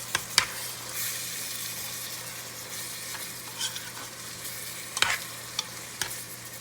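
Ground beef frying in a pot is broken up with a utensil: a steady soft sizzle runs throughout, punctuated by a few sharp scraping clacks of the utensil against the pot, with no talking.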